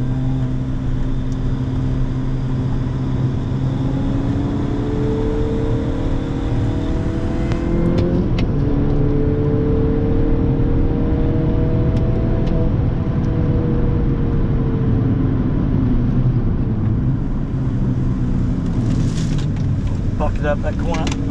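A Mini Cooper S laps Queensland Raceway, its engine droning loudly up and down through the gears with rising and falling pitch under steady wind roar, heard from inside the car.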